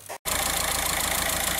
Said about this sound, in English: So with our engine running